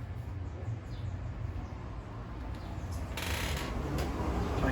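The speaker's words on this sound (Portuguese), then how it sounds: "E a impressora aqui embaixo está trabalhando." An Epson L4150 inkjet printer runs its print head cleaning cycle, a continuous close mechanical whir and hiss that grows slightly louder partway through.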